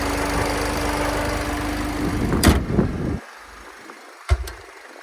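A car engine idles with a steady low hum, then cuts off; a couple of sharp knocks or clunks follow, one near the end.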